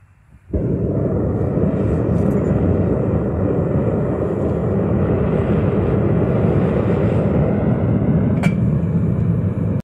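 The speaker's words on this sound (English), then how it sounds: "ignite my furnace to get this brass melted down" An outdoor propane furnace for melting brass roars to life after a quiet start, then holds a loud, steady, broadband rushing burn with a faint higher hiss throughout.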